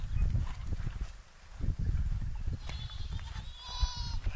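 Sheep bleat in a village setting near Karimnagar, Telangana, with a cluster of higher, wavering calls in the latter half over steady rural background noise.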